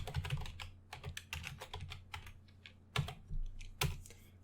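Someone types on a computer keyboard while writing Python code, producing quick irregular clacks and key taps in short bursts, close and clear, with a few louder keystrokes standing out and no talking.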